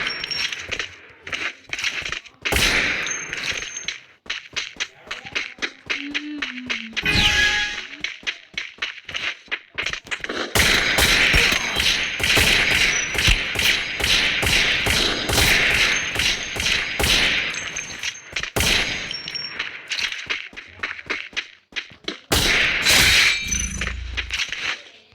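Woodpecker gun firing in a Free Fire booyah match, heard as rapid bursts of sharp, loud repeated shots in clusters, with thumps and clinks between volleys and no talking.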